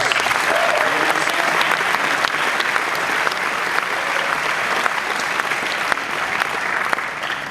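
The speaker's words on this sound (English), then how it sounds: "Let's give them a round of applause" An audience applauds at a film premiere Q&A for Dredd, steady, loud, dense clapping that runs throughout with a faint murmur of voices underneath.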